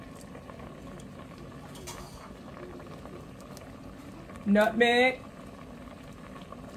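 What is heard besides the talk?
sliced peaches cooking in heavy syrup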